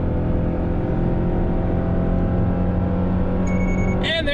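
A 2022 Toyota Tundra with a turbocharged engine pulls a travel trailer uphill, its steady, loud engine drone heard from inside the cab, with a short electronic chime near the end.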